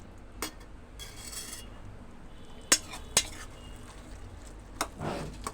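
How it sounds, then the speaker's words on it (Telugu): A cucumber and tomato curry is stirred in a metal pot, with scattered sharp clinks and scrapes of the spoon against the pot's side, close but fairly quiet, plus a soft bubbling rustle near the end. "ఒకసారి తిప్పుకుంటూ ఉందాం కూరని"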